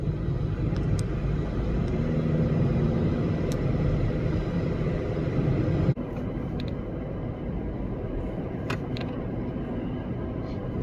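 A car climbing a steep road makes a constant low engine and road rumble heard from inside, with the tone shifting partway through.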